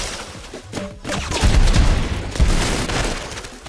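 Explosive gunfire from a grenade launcher in a video game, a dense barrage of loud booms and crackling blasts with heavy low-end thumps, continuous through the clip.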